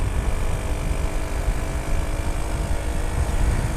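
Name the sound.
Lexmoto Aspire 110cc motorcycle revving up a steep hill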